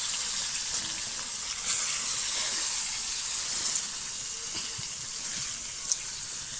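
Spiced fish pieces fry in hot oil, giving a steady, bright hiss of sizzling that carries throughout with a couple of small spatters.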